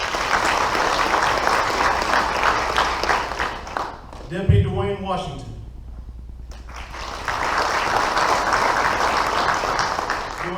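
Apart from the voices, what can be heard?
applause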